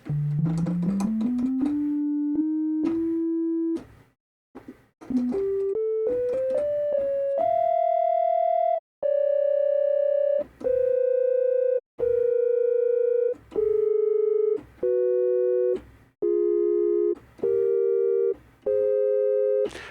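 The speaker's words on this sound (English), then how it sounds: "I want to hear stuff in a simple sine wave first." A pure sine-wave tone from a Serum 2 software synthesizer plays a sequence of steady pitches, first gliding upward in steps, then holding sustained notes separated by brief pauses.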